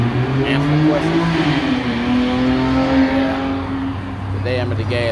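Engine noise at a gas station: a loud, droning motor with rising and falling revs runs continuously, close by, with a voice audible underneath.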